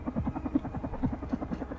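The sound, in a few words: helicopter blades spinning in video game Carrion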